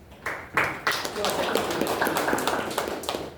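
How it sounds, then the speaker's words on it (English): Applause from a Toastmasters club meeting audience: a room of hands clapping steadily and fairly close for a few seconds after a couple of sharp opening claps. "Let's give her a round of applause."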